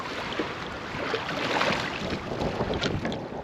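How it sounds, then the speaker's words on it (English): Wind gusts buffet a small fishing boat on a lake near rocks, a steady broadband rush with water and hull noise underneath, continuous and fairly loud throughout, with no talking. "the wind's blowing me into these rocks"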